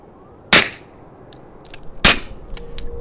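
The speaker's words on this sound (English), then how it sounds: "It's a lot quieter than I remembered suppressed 45 ACP from a pistol being." Two suppressed .45 ACP shots from a pistol fitted with an OSS RAD 45 suppressor on an outdoor range, about a second and a half apart. Each is a sharp, fairly loud crack, followed by faint metallic clinks from the slide.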